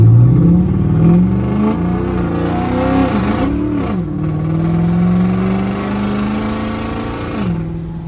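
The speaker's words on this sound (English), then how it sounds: "Let's get you guys a sound clip. This turbo's got a lot of lag, keep that in mind." A 2008 Ford F450 pickup with a 6.4L diesel and a laggy turbo accelerates hard, loud and close, its engine note rising through gear changes with a high turbo whine over it, no talking.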